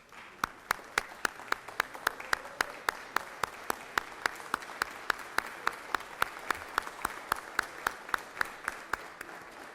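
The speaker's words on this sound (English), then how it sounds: "Would you please give them a round of applause?" Steady round of applause in the Georgia Senate chamber, a crowd clapping continuously for nearly ten seconds at moderate distance, with a dense, even patter and no speech over it.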